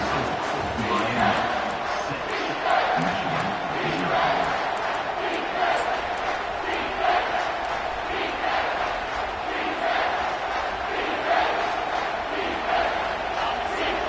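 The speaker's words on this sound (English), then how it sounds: "This crowd rising up, sensing that its defense needs some help." A college football stadium crowd roars and cheers in a sustained, swelling wall of voices during a third-down defensive stand, loud and continuous throughout, with a commentator talking over it.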